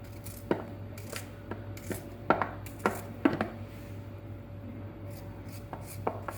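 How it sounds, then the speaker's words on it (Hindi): A knife cuts peaches repeatedly against a board in irregular strokes, each a short crisp tap over a low steady hum. "सबसे पहले आड़ू काटेंगे।"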